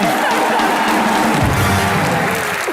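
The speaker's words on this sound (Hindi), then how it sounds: "जोरदार तालियां सुष्मिता सेन के लिए।" A loud TV comedy show studio audience claps and cheers continuously, a dense wash of applause with whoops rising over it.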